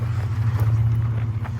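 Toyota Tacoma with an e-locker crawling off-road in two-wheel drive, a loud steady low engine drone with a rumbling undertone, close.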